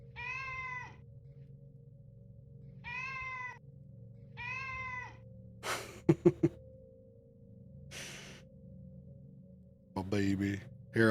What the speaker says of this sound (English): She sounds like she's really trying to get your attention when she meows.